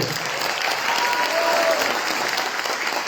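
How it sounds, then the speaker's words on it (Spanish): Audience applause welcoming a speaker at a book presentation at a public university in El Alto, Bolivia, a steady, close wash of many hands clapping without a break. "Por favor, un fuerte aplauso."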